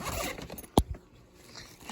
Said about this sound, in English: just unzip this little zipper you have on the side of your machine